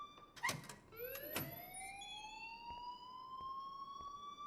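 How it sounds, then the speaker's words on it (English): A school alarm in the video game Life is Strange wails with rising electronic sweeps, starting after a couple of sharp bursts and then holding a steady, moderately faint siren-like tone. "please turn off that alarm since that's your job"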